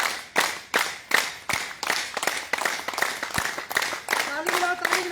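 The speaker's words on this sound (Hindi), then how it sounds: "ताली मिलाओ जोर से" A group in a morning yoga class claps hard and fast, a rhythmic run of sharp loud claps about twice per second, with a voice speaking over the clapping near the end.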